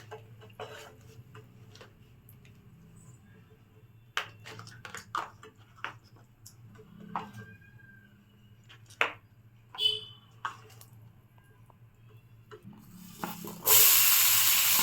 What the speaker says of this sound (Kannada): ಅದನ್ನು ಹಾಕಿ ಚೆನ್ನಾಗಿ ಫ್ರೈ ಮಾಡ್ಕೊಳ್ಳಿ